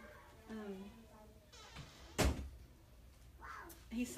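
A door shuts with a solid thud midway through, preceded by faint rustling and a voice speaking quietly before and after.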